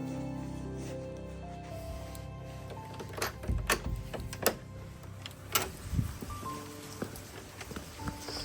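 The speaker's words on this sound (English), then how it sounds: "All of this rain, we've had so much rain for the last like 6 weeks" Steady rain falls outdoors after weeks of wet weather, a soft continuous patter with scattered louder drops and splashes hitting nearby surfaces.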